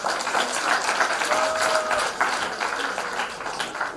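Parents and guests at a primary school graduation clap for the graduates, a steady crowd patter that holds for several seconds with a faint whistle or two mixed in.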